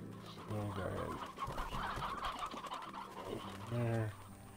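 Chickens clucking in the video game Slime Rancher, several harmonic squawks and clucks repeating close up over a busy game soundscape, the bird calls alone without talk.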